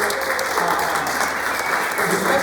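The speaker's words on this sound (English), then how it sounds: "I want you guys to give a round of applause to that" A brief burst of audience applause at a financial literacy and business ownership talk, with full, dense clapping filling the moment and no speech over it.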